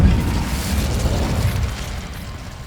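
A fiery burst from the Incendio fire spell in Hogwarts Legacy, a loud whooshing blast at the start that rumbles and fades over a couple of seconds, with no talk.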